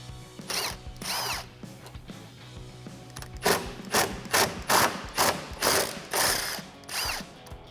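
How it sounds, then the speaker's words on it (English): An impact wrench fitted with a T40 Torx socket works bolts loose at the top of a Jeep Wrangler's A-pillar, firing repeated loud hammering bursts of ratcheting rattle, close up and separated by brief pauses. "I'm going to be using a T40 Torque socket in my impact wrench."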